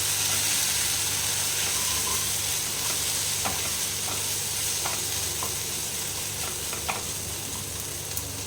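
Mutton and potatoes for a Bengali-style curry fry over medium flame in a pan, a loud constant sizzle broken by scattered scraping taps of a spoon stirring, close up with no speech.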